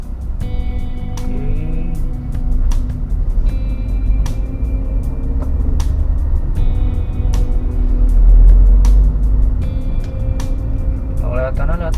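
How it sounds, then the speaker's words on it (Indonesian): Cars pass on a busy road, giving a continuous engine rumble that swells and fades as vehicles go by, with faint horn-like tones and a person talking throughout. "Jalanan ini di sini cukup ramai. Dari tadi papasan mobil cukup banyak ya."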